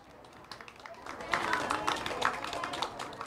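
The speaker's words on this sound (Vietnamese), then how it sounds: "xin mời quý vị cho các em một tràng pháo tay thật là lớn" Applause at a Christmas gathering, starting faint and swelling into a steady patter of many hands clapping, fairly distant and soft, with some talk.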